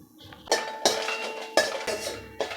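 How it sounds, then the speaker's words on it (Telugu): Red chillies dry roasted in a pan without oil, heard as a series of metallic clanks and scrapes from the pan and spoon, several distinct hits with ringing overtones in between and no talk. "నూనె వేసుకోకుండా ఎండుమిరపకాయలు వేసుకోవాలి."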